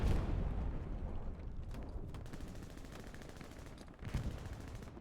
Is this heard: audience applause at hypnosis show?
no